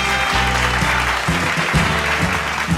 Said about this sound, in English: Give a round of applause to Ucal Fuel Systems.